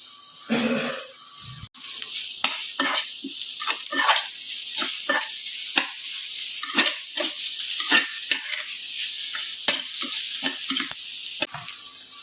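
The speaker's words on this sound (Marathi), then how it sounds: "पळया आले लसूण पेस्ट घालता आतां" Ginger garlic paste fries in oil for a Goan prawn chops recipe. A constant sizzle runs under repeated scraping strokes of a spatula stirring the pan, close and rhythmic, with no talking.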